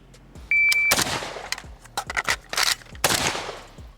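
A Krebs M23 AK-pattern rifle fires several sharp, loud shots at an outdoor range, with the metallic clacks of magazine handling and the charging handle between them.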